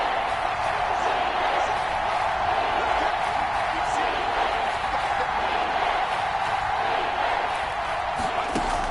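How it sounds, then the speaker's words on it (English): Stadium crowd at a 49ers home game against the Chargers swells before a big third down, a steady dense roar of many voices filling the clip without letup. "the crowd getting into it as we come up on a big third down"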